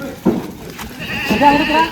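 Several goats bleat on a large goat farm as the herd moves out into the open, a loud, close burst of overlapping bleats, with a short earlier cry.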